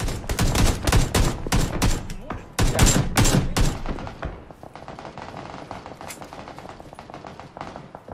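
PUBG gunfire opens with loud, close bursts of rapid automatic shots for several seconds, then gives way to quieter, more scattered distant shots.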